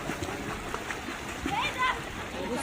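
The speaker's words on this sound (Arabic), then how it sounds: "الكابتن بيرمي العيال في البحر في حمام السباحة." Children being thrown by a coach into a swimming pool during swim training, with splashes and churning water amid a noisy, echoing poolside bustle.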